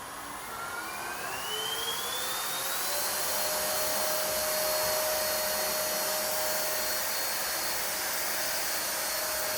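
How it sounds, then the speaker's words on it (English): An Airsled appliance mover's air pump inflates its hover blades under an appliance, a loud, steady blowing roar with a rising whine that climbs over the first few seconds and then holds constant. "Turn on the air pump slowly."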